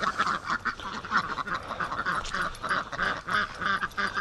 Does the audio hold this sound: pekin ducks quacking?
yes